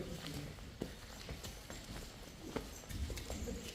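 Hooves of a cow at a cattle farm clop softly as it walks, a few irregular faint steps under quiet background talk.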